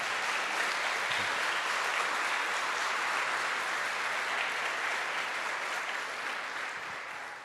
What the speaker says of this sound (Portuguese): E aplauda bem forte a palavra de Deus.